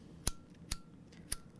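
Scissors snipping while sewing a fabric crossbody bag, three sharp isolated cuts spaced about half a second apart, close and crisp in a quiet room.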